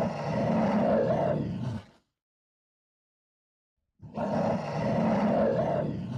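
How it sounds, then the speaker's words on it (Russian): A cartoon mother polar bear roars loudly in two long, sustained bursts separated by a stretch of silence. "А мама-медведица громко ревет."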